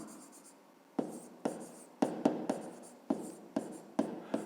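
Pen on paper in a quiet room: a series of short scratchy strokes, each starting with a sharp tap and trailing off, about ten in an uneven rhythm, close and soft.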